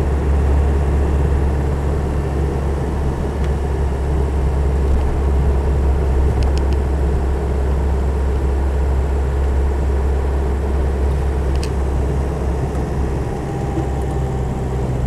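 A Land Rover 90 with a 2.5TD engine drives along, giving a continuous, even low drone and rumble heard from inside, steady with no talking.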